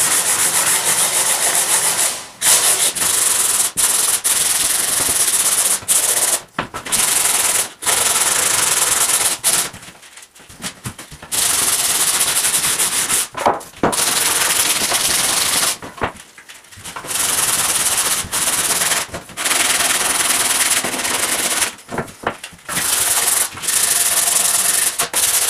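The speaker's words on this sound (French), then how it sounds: "Ponçage au 80 sur toutes les parties" Oak camera tripod parts, especially the curved sections, being sanded with 80-grit abrasive: loud, continuous rough rubbing strokes that run on steadily, broken by several short pauses.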